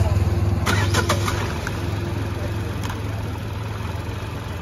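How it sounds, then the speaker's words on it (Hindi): A Tata Altroz BS6 hatchback with about 25,000 km on it, starting its engine and settling into a steady idle, heard up close with a low, even rumble and a few clicks at the start. "गाड़ी स्टार्ट कराते हैं।"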